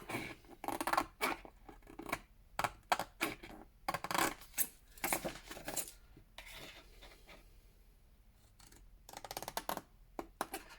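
Scissors cut out a paper craft piece for a pillow box Advent calendar, giving repeated close snips and crisp paper crunches in uneven bursts with short pauses between them, and no talking.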